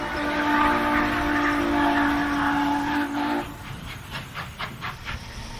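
A train rumbles steadily, with a sustained whistle-like tone for the first few seconds followed by rhythmic clacking of railcars passing, moderately close and without voices.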